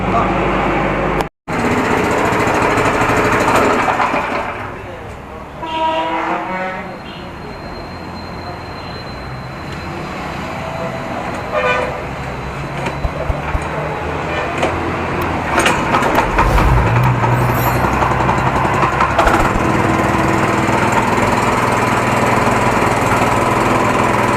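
A petrol hand-held walking tractor used for ploughing fields starts up close by, then settles into a loud, steady mechanical drone that runs unbroken for the rest of the clip.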